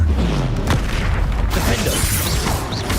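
A Confringo explosive spell blast in Hogwarts Legacy, a loud, dense rumbling boom with crackling bursts throughout, sustained and close for the whole moment.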